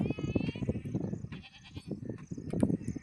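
Goats bleat in short wavering calls, several overlapping, with a person speaking at times in between amid village farmyard bustle.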